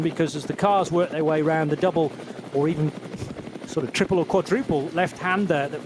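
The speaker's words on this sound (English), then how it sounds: "you can hear the helicopter blades in the background" Helicopter blades beating over the Nürburgring during a 2023 NLS endurance race, a continuous rapid chop in the background mostly buried under a commentator's steady talk.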